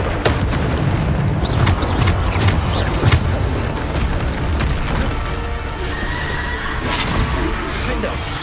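Bombarda explosion spells cast in combat in Hogwarts Legacy, a string of loud close booms and bangs in quick succession over a dense battle din, with a voice calling out between them.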